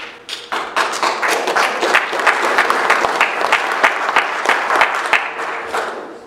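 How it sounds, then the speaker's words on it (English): A workshop audience on geothermal power claps for a speaker, individual hand claps building quickly into a lively, uneven applause of a modest crowd, close and fairly loud, with sharp distinct slaps. "don't clap until we did it"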